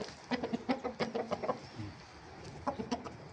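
Roosters offered for sale as fighting birds give a series of sharp clucking calls in short, uneven bursts, with a brief pause midway before the calls pick up again, close and fairly loud.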